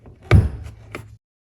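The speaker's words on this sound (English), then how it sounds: "time to open up the hood." Hood release pulled inside a 2018 Chrysler Pacifica, a sharp close clunk followed by a softer second thunk about half a second later, then silence.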